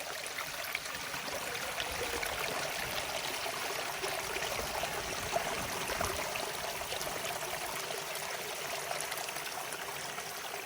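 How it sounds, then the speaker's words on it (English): Waterfall below a log cabin on an off-grid homestead, heard as a steady, broadband rushing roar of falling water that stays even and unbroken, with no talking. "I could hear this waterfall from the cabin, but I didn't know where it was."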